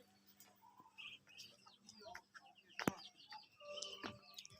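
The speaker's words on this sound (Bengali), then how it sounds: "এই দেখেন সুন্দর একটা পাখি।" A small bird chirps in short, scattered calls outdoors near a rural footbridge, faint and fairly close against quiet surroundings, with a few sharp ticks between the notes.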